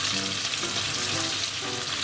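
Pork, mochi and cheese rolls sear in a frying pan, a steady close sizzle of hot oil with faint crackles running without a break and no voices.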